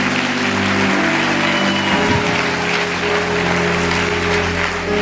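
A church congregation applauding at a sermon, sustained dense clapping running the whole time over a low steady hum.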